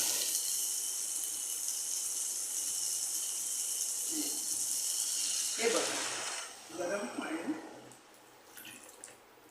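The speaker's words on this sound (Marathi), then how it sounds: "आता याच्यात आपण पाणी घालूया, पण पाणी घालताना नेहमी गरम पाणी घालावं" Hot water is poured into a pan onto fried mung beans. It makes a continuous splashing pour, then breaks into a few louder gurgling bursts before fading, with no voices.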